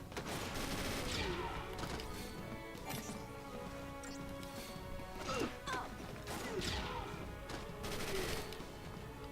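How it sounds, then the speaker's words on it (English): Grenade blasts in the Final Fantasy XIII video game, a series of loud, sharp crashing bursts spread through the clip over dense battle noise and music. "Grenades!"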